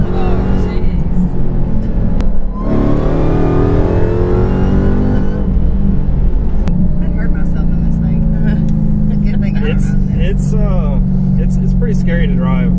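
A 1000hp 2018 Dodge Demon on race tires revving hard with wheels spinning, a loud steady engine roar heard from inside the car while people talk over it.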